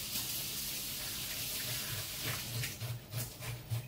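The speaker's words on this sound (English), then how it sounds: "Wash my hands off." Tap water runs steadily into a kitchen sink while hands are washed during curry oxtail cooking, a close, continuous hiss with faint background hum and slight splashing changes near the end.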